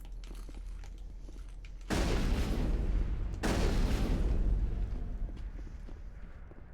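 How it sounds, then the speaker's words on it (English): Explosions and gunfire in the video game Mass Effect: two heavy, rumbling blasts land in quick succession, close and loud, each trailing off into a long roar over low background game noise. "I don't really want to get caught in those explosions."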